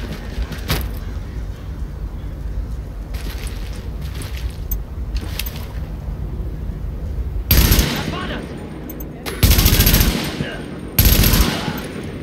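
Bursts of automatic gunfire from The Division, a third-person shooter video game, with three loud sustained volleys in the second half after quieter shots and background game ambience; someone talks in places.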